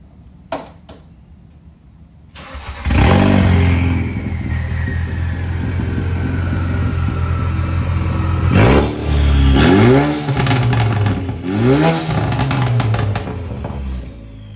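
A Ford Focus RS with an MBRP straight-pipe exhaust cranks and fires up after a few clicks, settling into a loud raw idle, then several sharp rising revs blare out close by.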